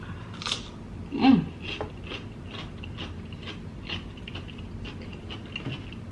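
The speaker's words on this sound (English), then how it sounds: "let me eat a cucumber or something" A crisp bite into a cucumber during a seafood-boil meal, followed by soft, close crunchy chewing, with a brief spoken word partway through.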